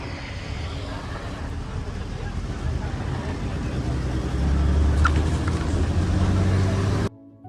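A state transport Lal Pari bus pulls away from a stop near a roadside hotel on the Konkan route, its engine a loud, steady rumble that builds slightly midway before cutting off abruptly.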